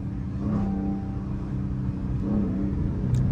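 A Dodge Challenger R/T engine drones in a low, steady rumble from inside the moving car, with mild swells as the revs rise.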